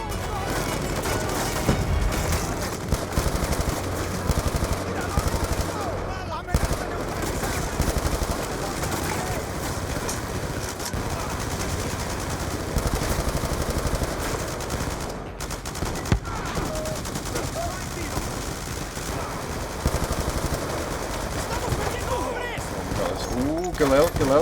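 Rapid bursts of Galil rifle fire in Call of Duty Black Ops 2, loud and dense, rattle almost without pause alongside explosions and booms, with someone talking over the gunfire.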